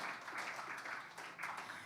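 A church congregation gives a clap offering of praise, with scattered clapping that swells in bursts. It sounds fairly faint and distant, as if heard from the front of the hall.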